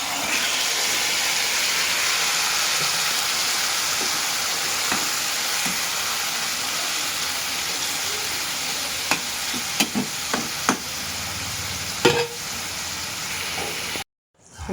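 Marinated chicken drops onto fried onions in a pan and sizzles in a loud, steady hiss, with scattered clinks and scrapes of stirring before the sound cuts off near the end.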